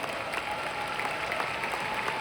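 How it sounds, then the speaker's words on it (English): An audience at a corporate training seminar applauds for the Vietnamese brothers, steady crowded clapping at moderate loudness, even and continuous throughout with a faint tone underneath. "Can we give our Vietnamese brothers a round of applause today?"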